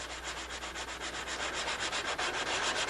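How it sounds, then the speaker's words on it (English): Light hand sanding of a wooden joint: a steady, close rhythmic rubbing of abrasive paper on wood, even strokes repeating quickly without pause. "just the slightest little bit of sanding, just till we can't feel a joint"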